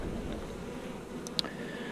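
A dense colony of honey bees drones steadily outdoors in March, a soft continuous buzz broken by one brief sharp tick near the end.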